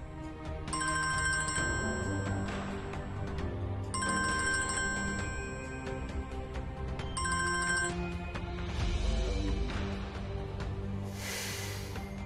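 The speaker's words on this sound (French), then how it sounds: "Décroche le fichu téléphone." A telephone rings in repeated electronic bursts with short pauses between them, loud and close, followed by a brief hiss.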